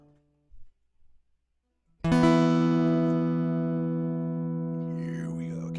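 Mountain dulcimer played in a blues style enters sharply after a brief quiet pause with a few faint knocks, then rings out loud and sustained, a strong steady drone under a bright melody that slowly decays.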